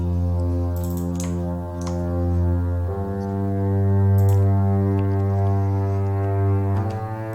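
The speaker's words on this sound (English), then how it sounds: "We thought the track could use a cello" A cello plays sustained deep root notes in a deep house track, long bowed tones changing pitch a few times over a steady low bass bed, with faint percussive ticks.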